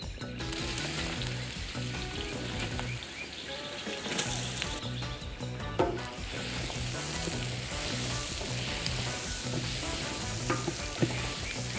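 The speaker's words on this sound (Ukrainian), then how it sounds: "Тушимо цибулю до золотистого кольору" Onion frying with pork cracklings in a cauldron for Transcarpathian bogracs crackles and sizzles loudly and continuously, with occasional stirring clatters over the bubbling fat.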